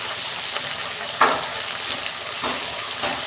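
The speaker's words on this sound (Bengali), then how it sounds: "কচুটা আমি লাল লাল করে ভেজে নেব।" Pieces of taro (kochu) fry in hot oil with salt, turmeric and chilli powder, giving a steady close sizzle with a brief louder spatter near the middle.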